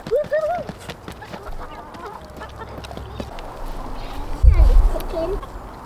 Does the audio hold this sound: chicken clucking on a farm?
yes